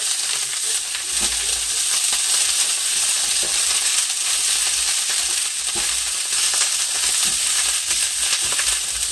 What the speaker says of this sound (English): saute that for about 2 minutes or so until it gets a bright green